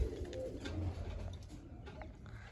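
Pigeons coo in low, rolling murmurs, with several birds calling close by over a steady background of outdoor noise and no clear voice.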